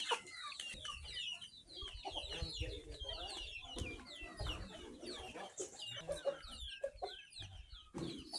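Several chickens cluck continuously and busily, close by, with scattered sharper squawks and some background bustle; no speech.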